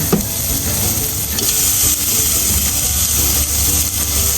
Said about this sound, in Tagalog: Huwag tayo maglagay ng mantika. Kasi magmamantika itong karne.